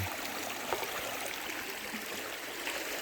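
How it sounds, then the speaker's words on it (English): Creek water streams steadily around bare feet in a redwood forest, a continuous close rushing trickle with no talk over it. "The water coming down."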